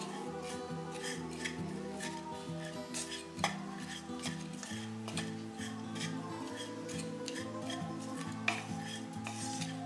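Jaggery and coconut being stirred together in a pan over a low flame, a spoon scraping and tapping the metal in a steady, close rhythm, with a faint sizzle underneath.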